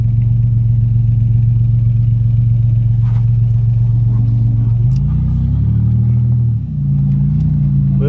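Oldsmobile 88 car engine idling steadily with a strong low rumble, then briefly revving and dropping back partway through; close and loud, with no talk over it.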